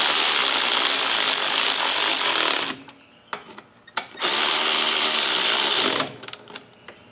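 Cordless power drill driving screws into a lawnmower during a repair, two loud sustained whirring bursts of about two to three seconds each, separated by brief clicks and a pause, with no talking.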